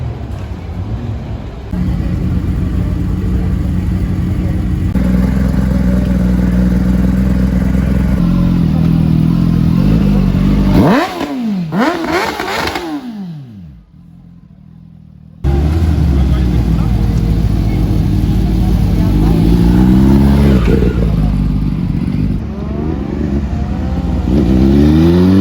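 A Renault RS Trophy on semi-slick tyres revs and pulls away, engine note rising and falling over a long pass with a brief drop-out, while people talk nearby at a car meet.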